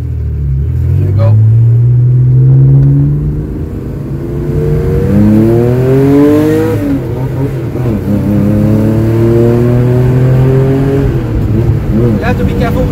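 A Porsche 930 SC Targa accelerating hard on the road, its engine note climbing through rising revs, dropping at a gear change and pulling up again, loud and close from inside the car.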